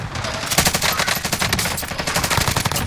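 Incoming gunfire in a shooter video game: dense, rapid automatic bursts crackle loudly and almost continuously for the whole stretch, close and sharp, with no voices over them.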